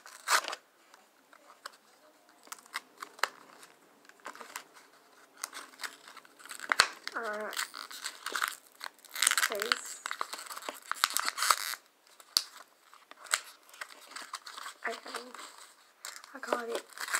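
New mascara packaging crinkling and tearing in bursts of crisp plastic rustles, close and fairly quiet, with short pauses between handling sounds and a person speaking briefly in between.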